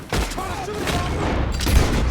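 Gunfire in Red Dead Redemption 2 rattles through a loud chase scene as close, overlapping shots and booms run steadily over rumbling motion, with some brief vocal sounds mixed in.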